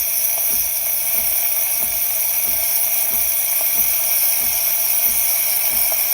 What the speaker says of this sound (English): We'll just take a second for the steam to kick in.